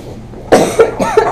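Three distinct coughs from a person during an MRI scan session, starting abruptly after a quiet stretch and spaced about a quarter second apart, fairly close and loud.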